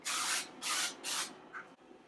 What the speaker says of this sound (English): You want to spray this lightly.